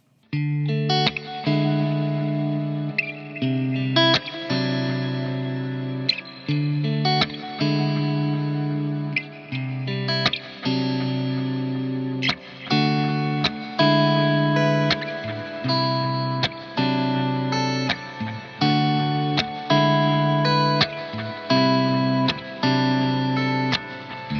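Electric guitar through a Victory Kraken MKII amp's clean channel, delay up front and reverb in the loop, playing sustained chords and notes with echoing delay and lush reverb, phrases repeating in a steady rhythm, no voices.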